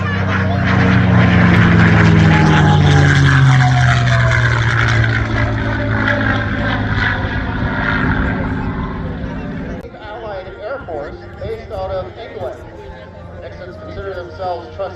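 A Mustang fighter plane with a Packard Merlin engine roars loudly overhead at Air Show Atlantic in Debert, its drone fading after several seconds while an announcer talks over it and the crowd.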